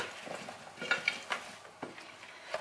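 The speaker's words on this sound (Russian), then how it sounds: "перчик и соль по вкусу. Все хорошо перемешиваем." Potatoes seasoned with pepper and salt stirred together in a bowl, giving quiet, intermittent scraping and rustling strokes with a few light clicks.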